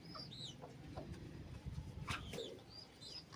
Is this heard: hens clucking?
yes